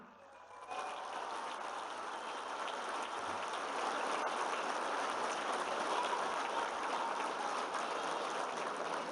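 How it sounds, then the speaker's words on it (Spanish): Outdoor crowd applause for construction workers at the inauguration of the Real del Monte–Huasca highway in Omitlán de Juárez, Hidalgo; a dense, steady wash of clapping swells in after a brief moment and holds evenly throughout. "le damos un aplauso a todos los trabajadores y trabajadoras de la construcción"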